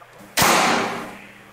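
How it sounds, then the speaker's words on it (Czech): A plastic toilet door latch knocked in a tiled room gives one sharp, loud snap followed by a long reverberant tail that slowly fades. "když drbneš do takový tý plastový západky, kterou máme my u nás na záchodě"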